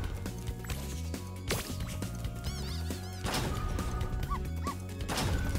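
Dog barks in Spyro Reignited Trilogy (Spyro 3: Year of the Dragon), several sharp yaps rising over steady game music and effects, fairly close and loud.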